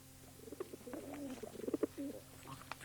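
A pigeon or dove held in the hand gives soft, repeated coos in an indoor setting, the murmuring calls rising and falling over about three seconds, close and fairly quiet.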